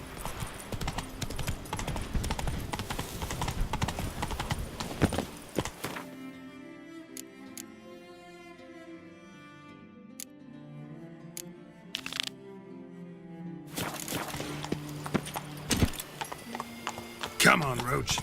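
Hoofbeats of Roach, Geralt's horse in the video game The Witcher 3, clip-clopping in a steady trot, mixed in with game music and effects and surrounded by talk.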